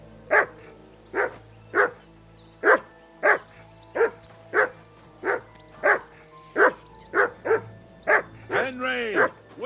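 A dog in the video game Kingdom Come: Deliverance 2 barks repeatedly in a steady, evenly spaced rhythm, loud and close, ending in a rising whine-like bark.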